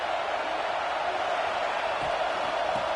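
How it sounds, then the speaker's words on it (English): Stadium crowd noise in the video game NCAA 26, a dense, steady roar of fans at moderate loudness that holds throughout without a break. "This crowd bringing the energy and noise early."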